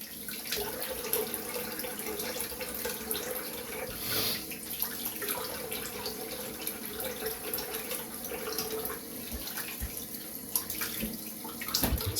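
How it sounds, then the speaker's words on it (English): Water runs steadily from a tap as hands are rinsed, a continuous close splashing rush with small spatters and no talking. "Rinse off my hands real quick"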